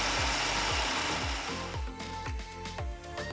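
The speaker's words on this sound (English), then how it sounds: "Now add the roasted peanuts to the jar and grind it all again to a fine powder." A mixer grinder jar grinds roasted peanuts into a fine powder for peanut podi, its motor whirring loudly with a steady rhythmic churn of dry chunks thumping around the jar, then settling into a more even grinding whine.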